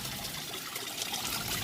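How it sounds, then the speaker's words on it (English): Water pours from a DIY waterfall spillway into a small balcony pond, a steady close splashing trickle with no pauses and no voices. "The water's coming down like a waterfall."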